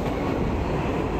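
A commuter train heading to downtown Brooklyn rumbles with a continuous, even, loud roar, as if heard from on board, with no voices present.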